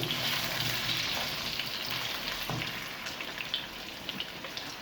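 Potatoes fry in oil for chicken biryani, giving a dense, rain-like sizzle that stays close and steady, with a few soft stirring scrapes along the way.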